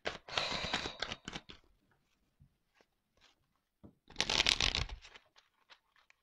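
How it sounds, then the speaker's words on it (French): Tarot-style cards shuffled close up during a card reading: two bursts of quick riffling and flicking, each lasting about a second, separated by quiet moments with a few soft card taps and slides, and no talking. "Je vais pas prendre beaucoup de cartes."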